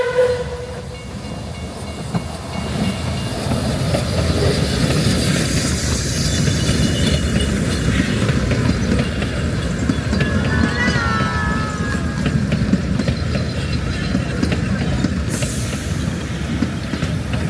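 Puffing Billy steam locomotive 7A hauling a six-car train on a narrow-gauge line between Menzies Creek and Belgrave, a steady rumbling roll of wheels and carriages with hiss and a faint whistle, continuous and fairly close.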